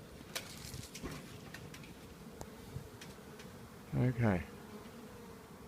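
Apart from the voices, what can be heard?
honey bees buzzing around a wild hive in a tree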